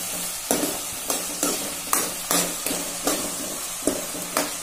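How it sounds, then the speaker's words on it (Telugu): A spoon stirs tomato curry in a hot pan, giving a steady run of soft scraping strokes and taps about twice a second over a low background sizzle, close and moderately loud, with no talking. "ఒకసారి కలుపుకుందాం"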